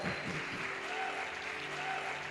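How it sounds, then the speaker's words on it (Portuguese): A church congregation applauds, a steady wash of many hands clapping together at moderate distance, fairly faint, with no talk over it. "Você pode aplaudir Jesus?"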